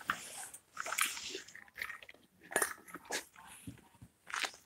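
A puppy eating food from her bowl, with busy crunching and chewing of kibble, soft clinks and snuffling bursts coming in irregular clusters, close by and fairly quiet, with no talking.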